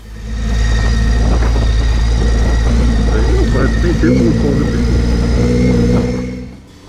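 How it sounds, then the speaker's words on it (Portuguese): Motorcycle engine after a 40,000 km service rumbles loudly up close, rising and falling in revs for several seconds before cutting off, with a voice speaking over it. "legal ver o vigor da moto depois da revisão de 40 mil quilômetros"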